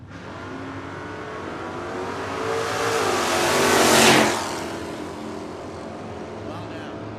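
Drag racing cars, a Chevelle and a Nova, roaring down the strip at a race finals, engine noise swelling to a loud peak and then fading as they pass, with an announcer talking over it.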